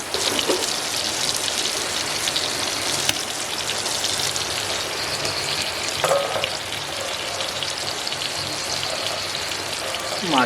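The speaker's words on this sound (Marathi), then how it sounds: "मासे फ्राय पण होत आहेत." Freshwater fish frying in oil in a pan, a steady close sizzle and crackle with a few clinks of stirring, mixed with the hiss of rain falling outside.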